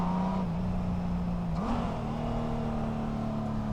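A Honda Goldwing bagger with a manual gearbox accelerates, its engine note dipping then rising in a smooth, muffled drone, heard from the rider's position with steady wind and road noise.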